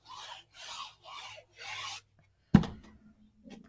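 Four even rubbing strokes of adhesive being applied to the back of a mini album base page, followed by a sharp tap and faint handling noises, close and quiet.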